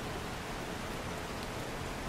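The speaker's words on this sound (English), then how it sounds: "Now the rain in here is one, really loud" Steady, dense rain pours nonstop over a video game scene, a loud broadband hiss with no breaks or individual drops standing out, and no voices over it.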